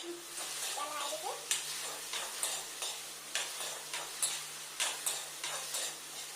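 A spatula stirs food seasoned with turmeric and salt in a pan on a hostel stove, making steady rhythmic scrapes and clicks over a faint, constant sizzle.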